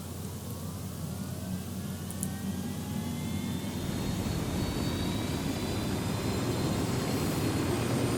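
A helicopter in the video game Ghost Recon drones and roars steadily, growing slightly louder over time, with no speech over the continuous mechanical hum.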